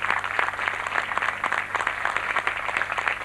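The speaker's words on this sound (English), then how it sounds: "my faculty kindly just stand and we applause for them" Audience at a golden jubilee event in a hall applauding faculty, steady rapid clapping from many hands throughout, fairly close and even.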